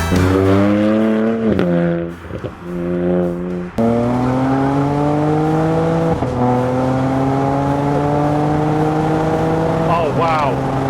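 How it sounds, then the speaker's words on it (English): A 400 bhp BMW Z4 35i revs hard through the gears while driving, with sharp exhaust pops and cracks on each upshift over a loud, rising engine drone heard from inside the car. "when on the upshifts, the pops and, well, it was more of a whip really, from the exhaust is intoxicating"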